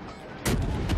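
A heavy naval gun salvo booms abruptly midway in the World of Warships naval battle, a loud close blast with a rumbling tail and a second report near the end, after a quieter stretch of engine and sea ambience.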